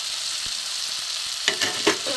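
Spice paste fries in a pan for a grated egg curry, a steady hissing sizzle with a few brief scraping stirs near the end, close and alone without talk.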